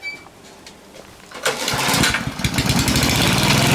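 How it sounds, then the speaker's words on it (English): An older petrol lawn mower pulled into life on a lawn, quiet for over a second before the engine catches and settles into a loud, steady running drone. "this mower's a little bit older, so it will be fine. So let's mow this up. See if it starts first pull away."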